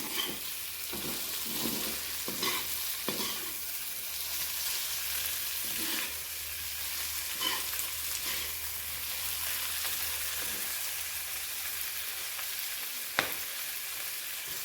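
Potatoes fry in a pan of pigeon curry with a steady, moderate sizzle, broken by several soft stirring clatters and one sharp utensil knock near the end, with no talking.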